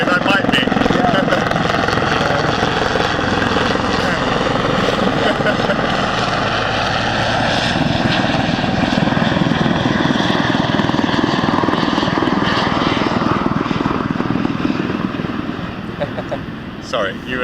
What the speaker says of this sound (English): there's a helicopter going over